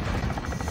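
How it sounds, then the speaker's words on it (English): A chopper gunner helicopter killstreak from Call of Duty Modern Warfare gives a brief, loud burst of rotor thumping and engine drone. "I'm not having fun with a chopper gunner."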